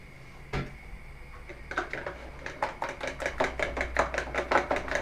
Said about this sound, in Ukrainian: Яйце збиваємо два яйця, трошки водички туди